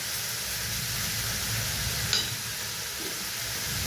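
A spoonful of ginger paste goes into hot oil for muri ghonto, giving a steady, broad frying hiss with a brief sharp clink of utensil midway, the sizzle continuing evenly without talk.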